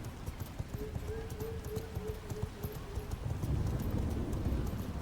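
Horse hooves clip-clopping at a gallop in the video game V Rising, a rapid steady rhythm of close hoofbeats with a brief neigh partway through and a rougher rumble toward the end.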